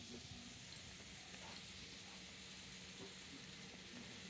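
Potatoes and eggplant fry in oil in a pan with onion, a steady, faint, even sizzle running through the whole stretch with no talking.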